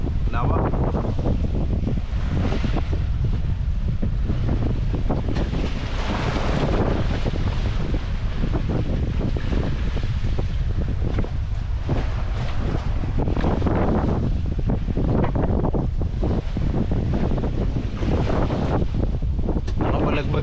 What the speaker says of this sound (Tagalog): Hangin galing dito sa silangan